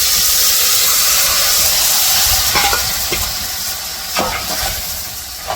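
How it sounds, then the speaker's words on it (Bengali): Vegetables hit hot oil with fried onion and garlic, giving a loud, steady sizzle and hiss, with stirring scrapes and clatters near the end. "এখন সবজিটা দিয়ে দিব।"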